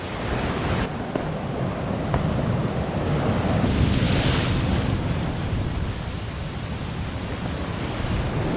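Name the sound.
ocean waves and swell breaking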